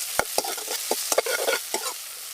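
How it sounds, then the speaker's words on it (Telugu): Onions with crushed ginger, garlic and green chilli paste fry in a pan for homemade pani puri, with loud, close scraping stirs at a quick, uneven rhythm over a bright sizzle, no voices. "ఇప్పుడు మనం దంచి పెట్టుకున్న అల్లం వెల్లిపాయ పచ్చిమిరపకాయ కూడా దీంట్లోనే వేసి కలుపుకుందాం."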